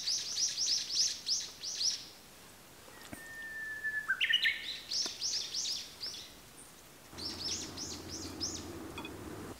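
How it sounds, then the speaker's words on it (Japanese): Repeated bird chirps and trills outdoors on abandoned farmland in spring, several bursts of call series with a brief whistle in between, fairly close and clear against a quiet background. "なんか鳥が歩いてます。"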